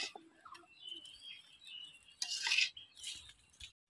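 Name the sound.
transferring fried grass pea greens from pan into a bowl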